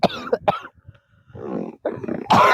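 A person coughs loudly and close by in a rented PG room, the rough bursts coming in a quick uneven series of several coughs.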